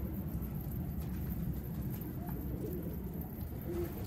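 A pigeon coos softly a couple of times, faint against a steady outdoor background hum, after landing at a rooftop loft.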